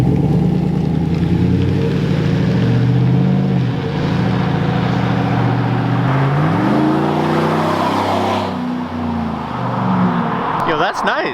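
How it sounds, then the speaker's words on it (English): A V8 truck engine fitted with an aftermarket exhaust revs and accelerates, its deep rising and falling drone loud and close, with people talking over parts of it. "with this exhaust, I still hear the V8 sound"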